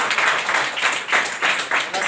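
An audience at a school exam event clapping to welcome a speaker on stage, steady loud applause in rhythmic waves, close and continuous throughout the short stretch.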